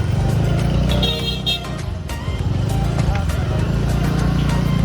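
A vehicle edging through crowded market-day traffic near the fish market in Vengurla, engine drone steady and close with scattered horn toots and crowd bustle, while people talk over it.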